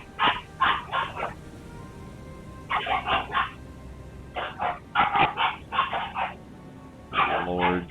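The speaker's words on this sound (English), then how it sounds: "Lord, dogs." Several dogs bark in short, loud bursts of two to four yips, repeated in clusters with brief pauses between, close and clear with no talk over them.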